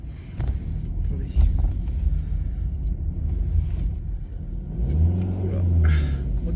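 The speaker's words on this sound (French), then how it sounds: "Gros démarrage en côte" Car pulling away on a hill start in heavy traffic, engine rumbling and rising in pitch as it revs and accelerates uphill, heard close with someone talking over it.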